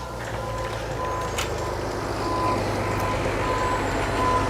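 A concrete truck reverses at a site where holes are being poured, its backup alarm beeping in a steady evenly spaced series over a constant diesel engine rumble, fairly close.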